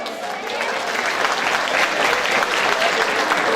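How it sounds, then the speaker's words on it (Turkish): A village dinner crowd in Ormanözü, Turhal, Tokat keeps up loud, sustained applause, many hands clapping in a dense, unbroken roar that swells slightly toward the end. "Alkışları duysun gençlerimiz."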